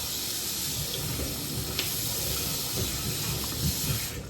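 Tap water runs steadily into a kitchen sink while food is being washed, a continuous hiss-like stream with faint clinks and handling sounds beneath it, no talking.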